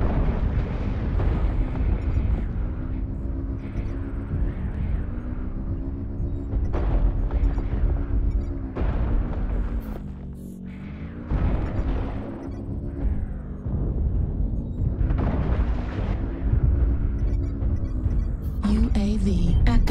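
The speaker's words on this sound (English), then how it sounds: "Artillery strike activated." Video game artillery strike pounding in a shooter match, with a rolling series of deep booms and rumbling blasts over about twenty seconds, loud and dense with constant background battle noise.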